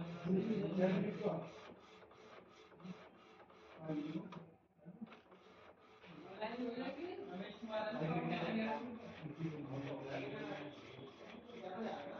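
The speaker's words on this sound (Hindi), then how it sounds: "देखिए हमारा कार्ड प्रिंट हो चुका है" An Epson L8050 printer printing a PVC card whirs and clicks mechanically underneath a person talking almost throughout, with a brief pause in the middle.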